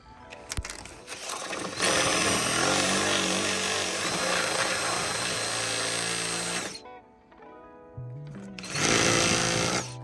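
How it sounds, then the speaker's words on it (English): Power grinder cutting into a carbon fiber fender on a 2018-2024 Toyota Camry to enlarge a mounting hole, a loud sustained whine that runs for several seconds, cuts out briefly, then bursts back in. "you're gonna keep trying to grind it out until it fits the way you want it to"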